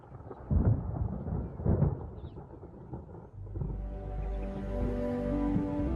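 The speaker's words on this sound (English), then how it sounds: "Throughout Botswana, storm clouds are massing." Deep thunder rumbles and rolls from storm clouds massing over Botswana at the end of the dry season, a low sustained roar that swells again in the second half, with no voices.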